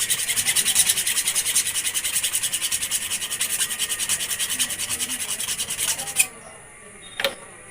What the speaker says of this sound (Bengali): তো এই যে রেত নিয়েছি, যা হোক ঘষবো এটা একটু, জিনিসটা ক্লিয়ার করে দেবো।